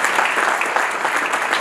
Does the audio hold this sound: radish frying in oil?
no